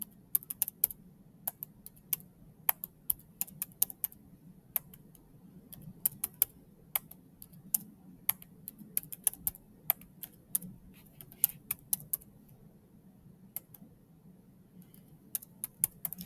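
Scattered, crisp keyboard taps on a computer keyboard, close and fairly quiet, irregular strokes over a steady low room hum with no talking.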